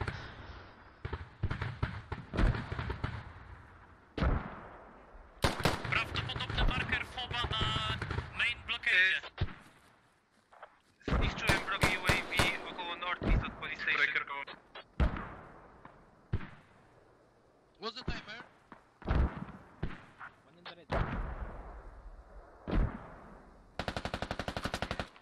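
Light machine gun fire in a competitive tactical shooter match, coming in repeated bursts of rapid shots separated by brief quiet gaps, loud and close with a speaking voice in between.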